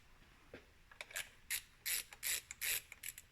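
Ratchet wrench backing out transmission pan bolts on a 2003 GMC Sierra with a 4L60E transmission: a run of quick metallic clicking bursts, close and fairly quiet, speeding up toward the end with no talking.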